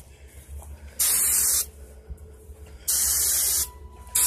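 Starting fluid sprays from an aerosol can at a wasp in two loud, sustained hissing bursts, each about half a second to a second long, close up over quiet background hum.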